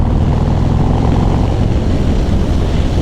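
A Harley-Davidson Sport Glide with a Stage 1 exhaust roars with a loud, continuous, close rumble as it picks up speed.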